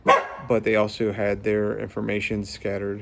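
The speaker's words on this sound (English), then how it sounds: "Sorry about the dog." A dog barks several times nearby, short yapping bursts overlapping a man's ongoing speech.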